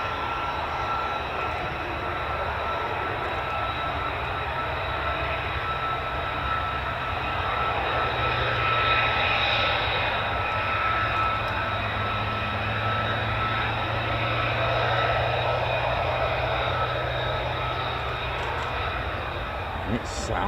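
An F-15 fighter jet's large afterburning turbofan roars continuously at a military airbase, a broad, distant-sounding rumble sustained for about twenty seconds that swells slightly in the middle.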